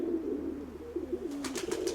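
Low, rolling cooing from pigeons in a loft runs continuously, with a few brighter bursts of movement or wingbeats toward the close.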